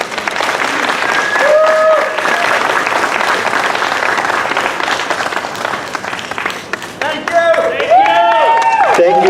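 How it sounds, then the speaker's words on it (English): An audience applauds steadily for water protectors at a gathering, a dense sustained clapping with voices calling out and cheering over it near the end. "Please another round of applause for the very courageous water protectors."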